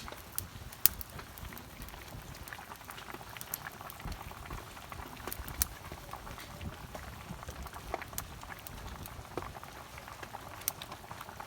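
Ash gourd curry simmering in a pot as surma fish goes in, a steady close bubbling and popping boil with scattered tiny splashes and drips, continuous and moderately quiet, with no talking.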